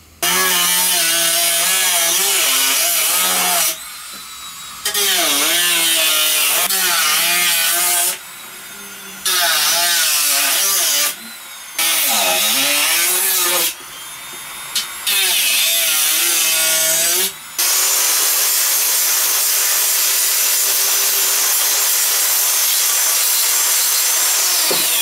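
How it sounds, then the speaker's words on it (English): Power tools grind and trim sharp fiberglass edges on Iron Man armour thigh pieces. Loud whining bursts rise and fall in pitch, broken by short pauses, then give way to a steady rough grinding at the end. "I'm going to get various tools out, try and get the sharp fiberglass from around the edges"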